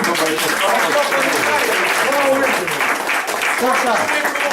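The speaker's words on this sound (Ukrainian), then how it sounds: "Оплески, будь ласка." An audience at a Ukrainian folk evening gathering claps for a performer, steady applause running throughout while voices talk over it.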